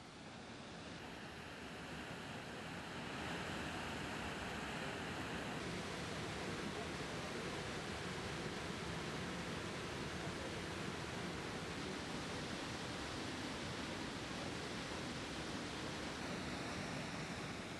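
An Alaskan waterfall where salmon jump gives off a dense, unbroken rush of falling water, steady and full throughout, with only a slight swell in loudness near the start.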